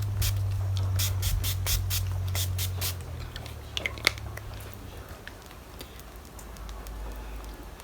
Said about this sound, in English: I'm going to take my finishing spray, my Zuru Flawless finishing spray